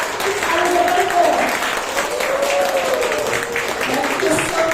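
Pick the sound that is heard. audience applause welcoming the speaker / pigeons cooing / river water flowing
audience applause welcoming the speaker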